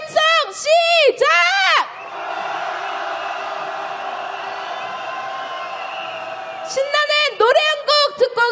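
Protesters at a rainy impeachment march, loud close shouts followed by a long, sustained roar of crowd cheering, then a return to sharp, punchy shouted calls.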